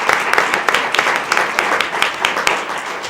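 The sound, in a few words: audience applause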